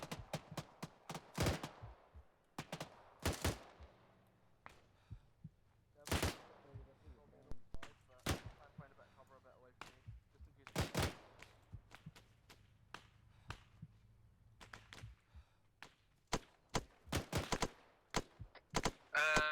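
Suppressive gunfire in the video game Arma 3: loud, sharp rifle shots ring out in irregular single cracks and quick bursts, close and repeated throughout with short gaps between volleys.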